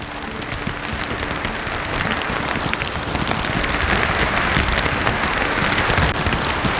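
Steady rain pours onto a bridge above a forest, a dense, even hiss that continues without a break and grows slightly louder toward the end.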